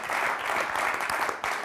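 Thunderous applause from a television show audience, dense continuous clapping filling the whole moment, loud and close with a brief dip near the end.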